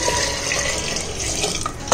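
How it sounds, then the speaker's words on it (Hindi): Water pours steadily into a metal pressure cooker holding lauki, chana dal, onion and garlic, with a rushing, splashing hiss, and a few faint clinks toward the end. "और इसमें डालेंगे पानी।"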